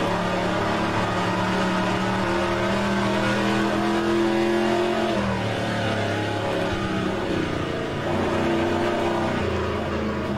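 A 1973 race car engine in the rFactor 2 racing sim, droning steadily at high revs with shifting pitch as it accelerates and changes gear, continuous and close for the whole stretch.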